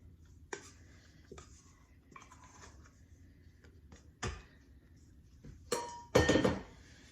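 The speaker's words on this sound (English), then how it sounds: "So with my bench scraper, it comes out beautifully" A metal bench scraper works sticky bread dough for homemade sandwich bread against the side of a bowl, giving a few sparse scrapes and taps before a louder, rougher scraping burst near the end, close and with no voices.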